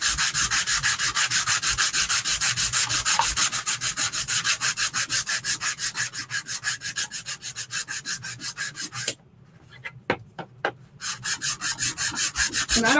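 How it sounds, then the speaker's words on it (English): Hand sanding of wood with 120 grit sandpaper over a small catch box: fast, steady back-and-forth rasping strokes, loud and close, broken by a brief pause with a few light taps before the rhythmic scrubbing resumes. "I have 120 grit sandpaper on this one."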